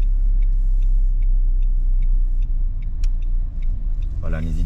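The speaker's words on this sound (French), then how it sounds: "on fait un créneau à droite entre les deux voitures" A manual-gearbox car idles and creeps slowly while parallel parking between two cars during a driving test in Rosny-sous-Bois, a steady low engine rumble with faint ticking, and a voice briefly speaks at the end.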